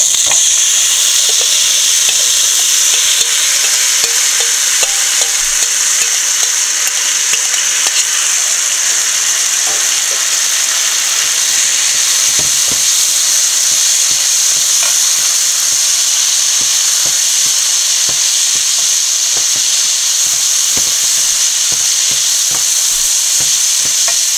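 Jackfruit seeds stir-fried in a hot pan give a loud, constant close sizzle with steady crackle and frequent scrapes of the spoon against the pan, no voices.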